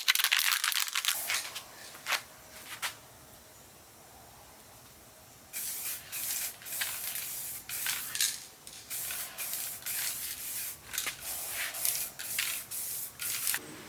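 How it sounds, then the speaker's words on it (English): Metallic blue base coat sprayed from a 2K automotive paint aerosol can onto a motorcycle part, heard as bursts of hissing spray that stop, pause for a few seconds of quiet, then return as longer close hissing passes. "then spray the metallic blue base coat."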